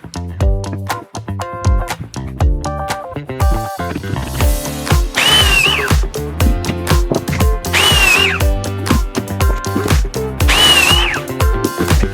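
Sharp knocks and clatter give way to a power drill whining in three strong bursts, each rising in pitch as it bores pocket holes into wood.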